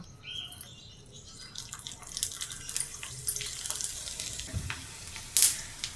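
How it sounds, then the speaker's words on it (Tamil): Hot oil sizzles and crackles steadily as vadagam, sun-dried fritters, is dropped in for tempering, with a sharp burst of spattering near the end. "நான் வடகம் போட்டு தாளிக்கிறேன்."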